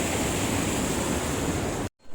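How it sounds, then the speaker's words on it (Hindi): A mountain waterfall in the Garhwal hills roars as a steady, dense rush of falling water, loud and close, then cuts off abruptly near the end. "झरने झरना वाटरफॉल हमारे गढ़वाली में बोलते हैं इसको"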